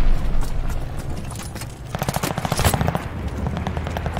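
Rapid automatic gunfire in the Call of Duty Vanguard video game, loud and continuous with dense bursts of shots over battle noise, briefly easing before intensifying again.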